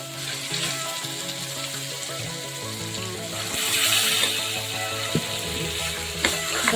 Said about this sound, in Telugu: ఉల్లిపాయ ముక్కలు మంచిగా ఎర్రగా వేగాలి